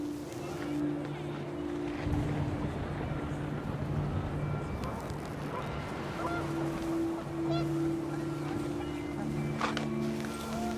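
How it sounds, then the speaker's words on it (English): Panicked geese honk in a windy outdoor scene of the video game What Remains of Edith Finch, their calls layered over a steady broadband rush with a low sustained hum. "The wind picked up, and panicked geese appeared and quickly went."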